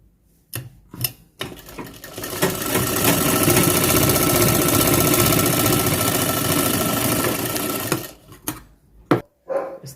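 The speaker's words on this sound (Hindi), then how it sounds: "ऐसे ही दूसरी प्लेट का निशान पे सिलाई मार लेंगे" Sewing machine stitching a pleat into a pair of trousers by a tailor: a few short bursts, then a sustained fast whirring run for several seconds, close and steady, ending in brief stop-start bursts.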